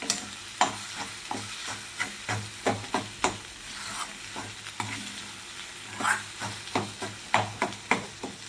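A spatula scrapes and taps rhythmically against a frying pan as egg bhurji is stirred and broken up, repeated sharp knocks over a soft background sizzle, close and fairly loud.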